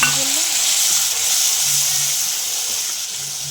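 Tomato paste with ginger and garlic frying in hot oil for a chutney, a steady loud sizzle and hiss that runs continuously and close, with no talk over it.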